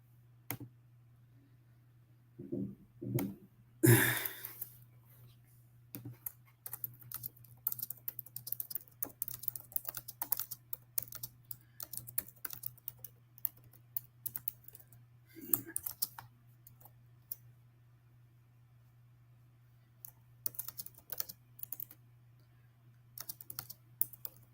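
Typing on a computer keyboard, with rapid irregular clicking bursts and short pauses over a steady low hum, close and moderately loud, with a few louder knocks near the start.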